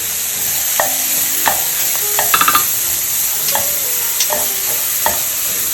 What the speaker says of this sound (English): So now we can add in the onions here. As well as the garlic.